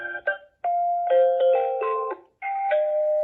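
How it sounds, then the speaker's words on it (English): Intercom doorbell playing a ding-dong chime, several clear, loud electronic tones in a short repeating melodic pattern, with a brief gap between phrases. "I think I'll just go with the ding dong."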